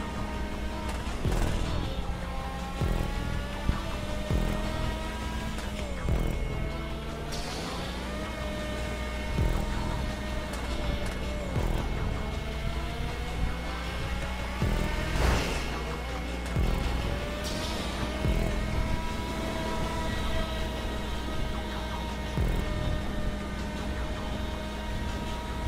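An open-wheel F1 race car engine in GTA 5 Online whines at high revs, rising and falling through gear shifts over a steady game soundtrack, loud and continuous throughout.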